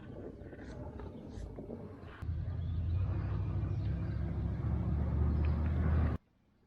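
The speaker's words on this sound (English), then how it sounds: "Uh-oh, little thunder." Distant thunder rolls as a low, steady rumble through the last four seconds on a kayak fishing trip, swelling loudly and then cutting off abruptly, with no talk over it.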